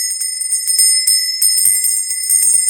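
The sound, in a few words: hand bell being rung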